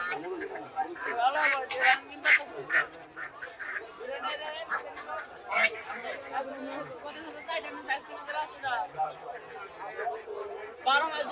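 Chinese ducks quack repeatedly among lively crowd chatter at a poultry market, with overlapping voices and honking calls from several birds nearby.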